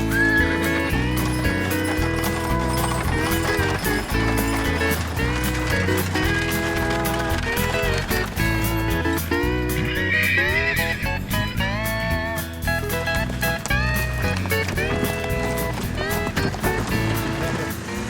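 Horses at a Romany gypsy gathering whinny and their hooves clop along, mixed into a busy bed of music with little speech.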